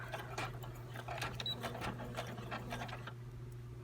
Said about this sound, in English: I'm going to sew this closed